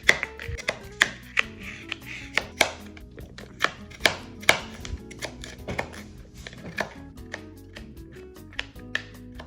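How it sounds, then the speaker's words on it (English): Radish being chopped with a knife on a cutting board in a home kitchen, a run of sharp, crisp knife strikes at an uneven quick rhythm, close and clear with short pauses between bursts. "I also had some radish, so I'm going to cut it up as well."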